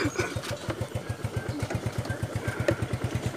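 A Yamaha Mio Sporty first-version scooter with an engine oil leak runs close by. Its small single-cylinder motor pulses in a quick, even putter with no voices over it.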